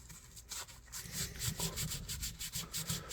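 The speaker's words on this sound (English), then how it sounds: "And then we can take some sandpaper. And this is my old piece here of 600 grit." 600-grit sandpaper rubs back and forth over a vintage electrician's knife in quick, soft, rhythmic strokes, close and faint with no voices.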